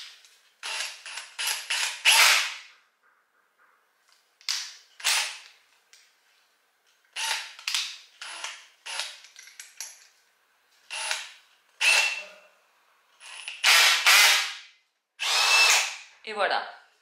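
Electric drill with a bit running during bathroom renovation work, about a dozen short whirring bursts, each a second or two long, separated by silences, close and loud.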